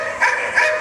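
A short dog barking sound effect plays in a theatre during a stage hypnosis show: two quick, high yappy barks close together, loud and clear with no speech over them.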